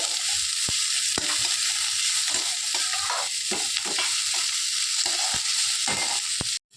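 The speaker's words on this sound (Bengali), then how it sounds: "তারপরে দেখো দিয়ে দিচ্ছি পেঁয়াজ কুচি পেঁয়াজ কুচিটা একটু লাল মতো হবে" Chopped onions frying in goat fat, a strong constant sizzle broken by occasional knocks and scrapes of a stirring spoon, ending abruptly.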